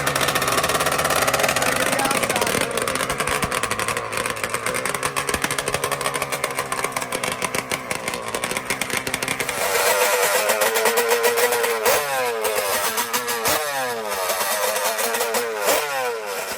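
A turbo side-by-side roars on a dirt race track, its engine droning and revving continuously at moderate distance, with a voice over a loudspeaker.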